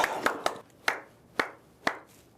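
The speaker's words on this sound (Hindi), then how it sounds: "अब ताली बजा रहे हो" Hands clapping slowly and unevenly, six sharp, separate claps spaced irregularly over a couple of seconds at moderate volume in a quiet room.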